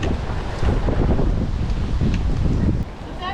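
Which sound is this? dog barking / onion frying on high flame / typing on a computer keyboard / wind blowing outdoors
wind blowing outdoors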